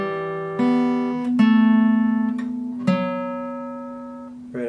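Several plucked guitar notes ring out one after another and sustain together, clear and close, with no talking.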